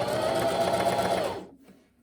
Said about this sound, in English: I'm going to stitch 3 to 4 stitches forward, 3 to 4 stitches backwards, and then sew my plain seam.